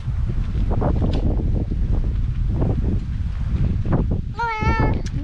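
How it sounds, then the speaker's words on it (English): Strong wind buffets the microphone in a steady low roar outdoors in the Pilbara near Python Pool and Millstream, and a brief meow-like cry rises near the end. "It's windy."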